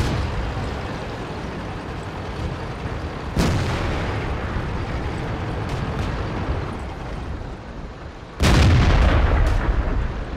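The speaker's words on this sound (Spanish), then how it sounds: "La artillería me ha tirado." Artillery shells strike a tank in World of Tanks, with two loud, close impact blasts several seconds apart over a steady rumbling engine and battle noise, the second hit heavier and sustained.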